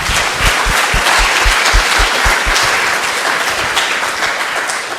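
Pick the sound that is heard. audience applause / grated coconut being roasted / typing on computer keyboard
audience applause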